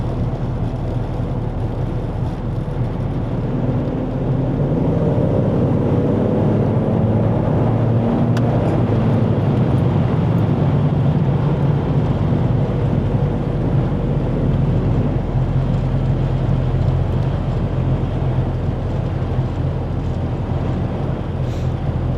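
A 1988 EA Falcon fitted with a 2008 Falcon engine cruises at about 100 km/h. A constant low engine drone sits under heavy road and wind roar, steady throughout with no voices.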